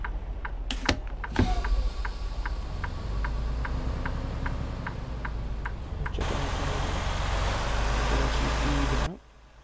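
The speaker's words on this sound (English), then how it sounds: "Just gonna cut our engine on." Truck engine cranking and catching, a burst of starter noise giving way to a steady low rumble that runs loud and close for several seconds with a faint regular ticking on top, then a fuller roar before cutting off abruptly.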